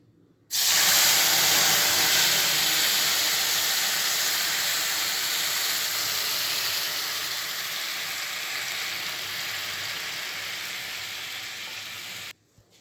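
Water poured slowly into mustard in a hot cooking pan sets off a loud, steady hiss and sizzle that starts abruptly, holds for about twelve seconds and then cuts off.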